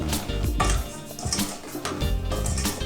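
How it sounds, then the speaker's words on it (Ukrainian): A spoon scrapes and clinks against a bowl as dry ingredients for homemade pizza dough, including yeast, are stirred together, with quick, uneven strokes close up. "перемішаємо сухі компоненти"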